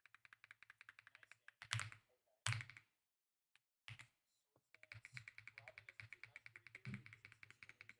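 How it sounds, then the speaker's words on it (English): Rapid clicking of a computer keyboard comes in quick bursts with brief pauses between them. The typing is close and fairly quiet, with faint speech-like sounds in places. "I'm not sure how loud my keyboard clicking is"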